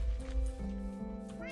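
A cat meows inside the Minecraft video game, a short tonal cry with stepped, held pitches over a steady low rumble, with game sounds and some talk mixed in.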